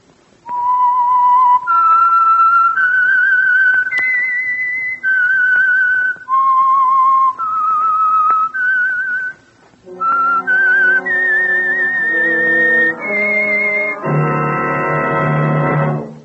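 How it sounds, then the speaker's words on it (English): A lone whistled melody serves as the signature tune of the Signal Oil radio program The Whistler, a slow series of clear sustained notes stepping up and down, ending on a louder, fuller orchestral chord. "the signal to listen for is this whistle that identifies the Signal Oil program, The Whistler."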